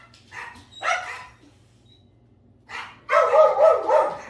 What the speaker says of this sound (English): the dogs are done barking